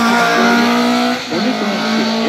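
A race car at the Fréteval hill climb revs hard and loud, its engine note holding steady, dipping briefly, then climbing again as it pulls away.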